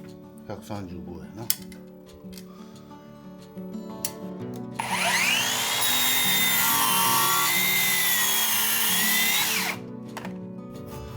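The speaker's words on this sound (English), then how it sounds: "I cut it with a circular saw, but it hasn't cut well." A circular saw cuts exposed timber in a stairwell catwalk build, whining loudly and steadily for about five seconds up close, preceded by quieter talking and knocking.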